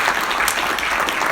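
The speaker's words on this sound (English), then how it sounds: "May we have a round of applause for Arif," A short burst of audience applause for panelists at a humanitarian innovation meeting, dense steady clapping throughout.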